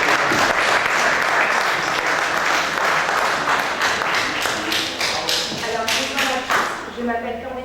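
An audience at the Miss Picardie 2019 pageant applauds a contestant, with dense, loud sustained clapping that thins into scattered claps toward the end while voices murmur underneath.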